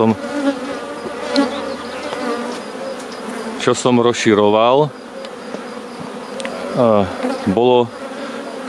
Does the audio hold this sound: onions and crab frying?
no